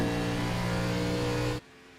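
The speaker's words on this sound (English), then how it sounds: "You hear that engine being throttle controlled through the corner" A race car engine in a racing video game holds a loud, steady drone with strong harmonics as the throttle is worked through a corner, then cuts off abruptly near the end.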